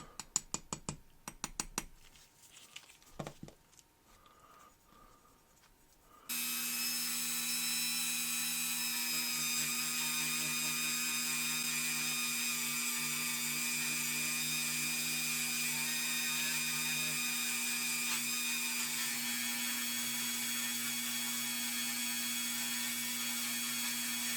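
A die-cast toy car, a Spectra-Flame Trans-Am, is polished with metal polish by a rotary tool, which runs as a steady, loud high-pitched whine after a few seconds of scattered handling noises.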